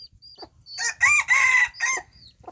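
A bantam rooster crows close by in a stretched, wavering call, framed by a few short clucks before and after, loud and clear against a quiet rural background.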